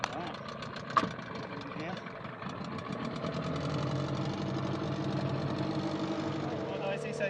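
Small outboard-type engine starting up and settling into a steady idle during run-in at half throttle, with a sharp knock early on, the hum growing fuller, and a person briefly talking over it.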